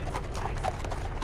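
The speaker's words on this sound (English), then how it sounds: "Sir, I hear horses coming down the road." Horses clip-clop down a road in the Brothers in Arms World War II video game. Rapid, overlapping hoof beats sound at moderate distance over a low rumble, with no voices.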